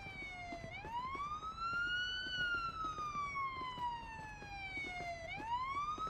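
A police car siren in the video game PSPO wails, sweeping steadily up and down in long cycles, loud and continuous, with a faint rumble of traffic underneath.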